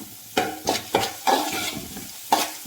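Sliced onion sautéing in a pan for semiya rava upma, with a soft sizzle under several sharp, evenly spaced scrapes and taps of a spoon against the pan, close and clear.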